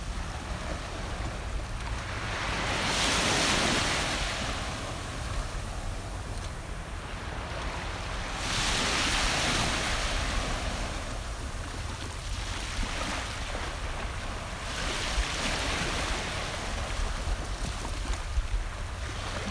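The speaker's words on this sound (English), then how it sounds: "I'm glad you're enjoying the sound of the waves" Ocean waves wash onto a beach in long swells, with broad surges peaking roughly every six seconds over a steady hiss of surf and wind, no voices present.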